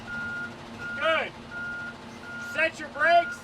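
A tractor-trailer truck backs up while its reversing alarm sounds a steady series of repeated beeps at moderate distance, with a person talking over it.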